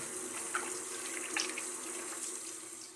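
Tap water runs steadily into a sink while hands are rinsed during a wet shave with a Gillette razor, a close, continuous splashing hiss with a few brief louder spatters.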